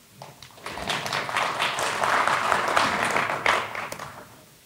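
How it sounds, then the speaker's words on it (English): A small burst of applause at a tech presentation after a live software demo works, a few people clapping steadily for several seconds before it fades out, moderately near with no voices over it. "Small applause because it actually worked."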